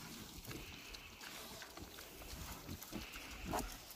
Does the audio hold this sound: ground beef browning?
no